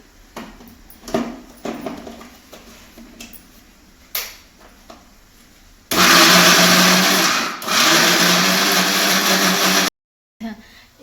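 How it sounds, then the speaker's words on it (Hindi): An electric grinder whirs loudly while grinding idli batter, a dense roar of about four seconds with a brief dip partway, then cuts off abruptly; a few knocks of handling come before it starts. "चलो तो अब इसको ग्राइंड कर लेती हूँ"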